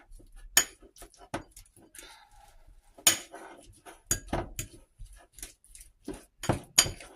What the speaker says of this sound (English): So, what I'm going to do is mix this all up here.